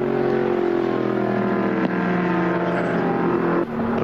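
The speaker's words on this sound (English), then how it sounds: "The motor purring quite contentedly" A 1977 Ford Falcon race car at the Bathurst Great Race runs at a steady, held-back rev with an even droning hum, heard close and continuous for a few seconds.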